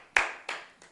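Sparse clapping from a small audience at a live event: three separate claps spread across a second, the first loudest, the last faint.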